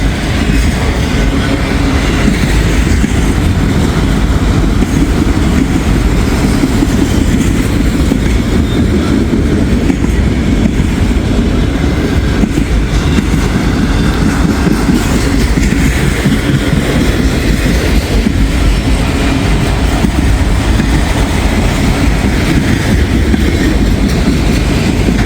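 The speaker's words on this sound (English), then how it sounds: "Pretty big train." A big freight train rolls past close by for the whole span, a steady heavy rumble with rhythmic clickety-clack of wheels over rail joints and no voices.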